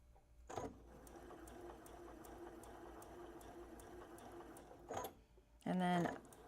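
A sewing machine set to lock stitch runs steadily around a small fabric butterfly, a continuous mechanical whir lasting several seconds and bracketed by brief clunks and a short burst of handling noise at the end.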